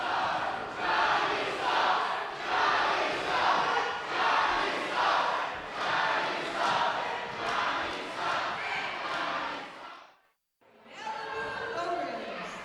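Wrestling crowd at a live event booing the referee, a loud sustained roar swelling in waves, briefly cutting out near the end before resuming.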